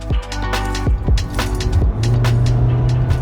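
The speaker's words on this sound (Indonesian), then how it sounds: "Berbicara mesin diesel, tenaga dan torsi besar dipadu transmisi kopling ganda bikin akselerasi terasa effortless." A 2021 Hyundai Santa Fe with a diesel engine and dual-clutch transmission accelerates, a steady loud drone of engine and road noise with rising tones and a few gear-shift dips, no talk.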